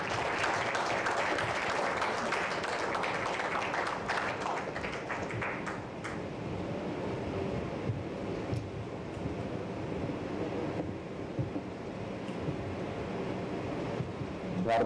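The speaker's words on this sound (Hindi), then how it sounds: "जोरदार तालियों के साथ" Loud applause from an audience at a Delhi BJP office event, welcoming a speaker: dense, continuous clapping that fills the room, strongest in the first six seconds and then settling into a steadier wash of claps.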